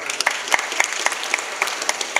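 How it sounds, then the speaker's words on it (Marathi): Audience applause at a kirtan (devotional singing performance), a dense wash of clapping with sharper individual claps standing out at a fairly steady rhythm, moderately close, with no talking over it. "त्यांच्याकरता एकदा टाळ्या वाजवा पुन्हा."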